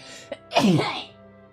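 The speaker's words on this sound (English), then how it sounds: "I'm gonna sneeze." A single loud, close sneeze with a short sharp intake just before it, bursting out and trailing off over about half a second.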